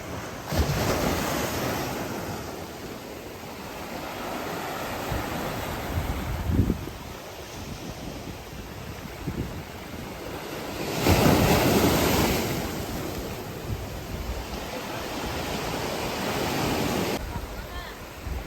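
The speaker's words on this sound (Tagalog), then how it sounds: "grabe yung alon, guys." Strong ocean waves at Simunul island in Tawi-tawi, a loud steady roar of surf with swells of crashing water and gusts of wind buffeting the microphone.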